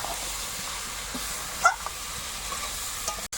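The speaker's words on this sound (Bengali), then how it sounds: "এবারে আরো কিছুক্ষণ নাড়াচাড়া করে কষিয়ে নিতে হবে" Chicken curry with tomato, green chili and ginger sizzles in hot oil as it is stirred, a steady soft frying hiss with faint scrapes of the spoon, no voices.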